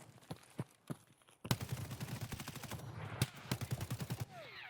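Rapid bursts of automatic gunfire in the shooter game Escape From Tarkov, starting with a few scattered single shots and then a dense, steady volley of reports that runs for a few seconds.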